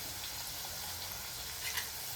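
Chopped chillies and tomatoes sizzle steadily in a hot pan, a soft, continuous hiss and crackle with no talk.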